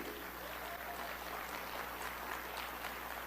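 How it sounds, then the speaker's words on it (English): A crowd applauds and cheers continuously and loudly throughout, a dense steady wash of clapping with no pauses. "do you hear the crowd? They love this."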